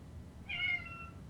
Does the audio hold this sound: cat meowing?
yes